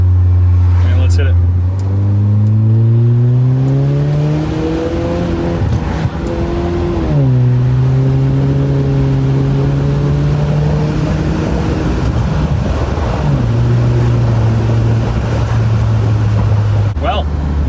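A Saab 9-3 accelerates hard in second gear, its engine note rising steadily in pitch over several seconds, dropping at a shift, then climbing again, loud and close.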